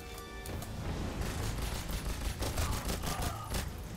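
Gunfire from a Colt pistol in a 007 video game, a continuous stream of rapid sharp shots layered over one another into a steady, fairly quiet fusillade.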